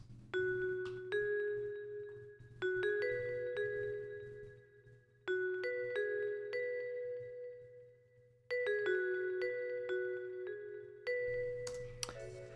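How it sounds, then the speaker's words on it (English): Vibes lead from the Korg M1 Vibes patch with delay plays a short melody of struck, bell-like notes in small clusters, each ringing and echoing as it fades, over a low steady hum, with no voices. "This is a Vibes lead, and this is also with the Vibes patch from the Korg M1"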